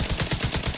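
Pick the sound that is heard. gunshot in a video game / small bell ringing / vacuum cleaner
gunshot in a video game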